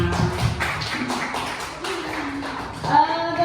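Scattered clapping and tapping from a small group at a classroom presentation, light and irregular, mixed with a sustained tone and background voices.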